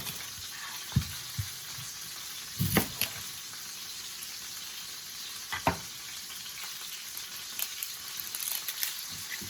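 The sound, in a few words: roast beef searing and sizzling in a pan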